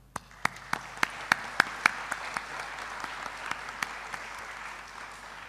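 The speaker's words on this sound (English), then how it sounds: "give a round of applause to all of us" An audience applauding at a conference closing ceremony in Yogyakarta: a run of sharp, separate claps that thickens into a steady wash of applause, moderately distant, with no speech.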